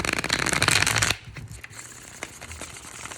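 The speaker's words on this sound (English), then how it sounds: "One more shuffle." A quick burst of cards being riffled and shuffled up close, a dense rustling flutter that stops abruptly, leaving a few soft taps and handling sounds.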